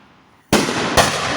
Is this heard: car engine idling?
no